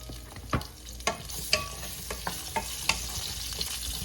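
Beef pieces brown in a pan for a braised beef mechado stew, with a quiet background sizzle broken by a regular series of stirring scrapes and clicks roughly every half second.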